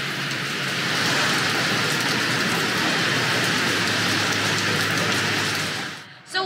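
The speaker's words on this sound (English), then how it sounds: "Yeah, and heavy, very heavy rain now." Heavy rain pours down steadily outdoors beside a fish tank setup, a dense unbroken hiss filling the whole stretch, loud and close, before it suddenly cuts off near the end.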